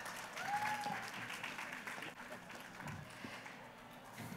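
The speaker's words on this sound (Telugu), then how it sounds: "థ్యాంక్ యూ మరిగా జయసుధ గారికి చప్పట్లు" Guests at an awards ceremony clap for actress Jayasudha in a steady, moderate wash of crowd applause, with voices faintly underneath.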